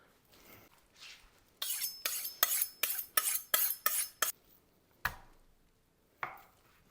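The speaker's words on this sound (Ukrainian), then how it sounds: "Різаємо такими шматочками і невеликими, і не маленькими." Knife cutting pork neck into pieces on a board, a run of about eight sharp, evenly spaced chops followed by a couple of isolated cuts, close and clear.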